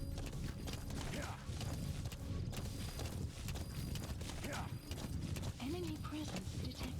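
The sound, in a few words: horse galloping in video game Metal Gear Solid V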